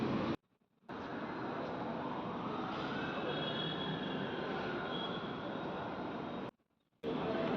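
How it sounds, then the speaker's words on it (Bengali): Metro train at Chalaghata station, a steady loud rumble and rush of the moving train with faint wheel squeal rising over it, briefly cut by two short silent gaps. "এটা মেট্রো স্টেশন চালাঘাটা।"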